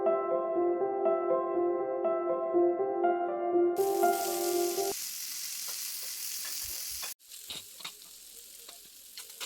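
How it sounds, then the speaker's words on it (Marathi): Mackerel shallow-frying in a little hot oil in a pan gives a bright, steady sizzle that rises partway through, after a stretch of tonal music, and continues with small pops to the end. "इथे आपण शॅलो फ्राय करायचं आहे डीप फ्राय नाही त्यामुळे थोडेसेच तेल घालून आपल्याला हे बांगडे फ्राय करून घ्यायचे आहेत"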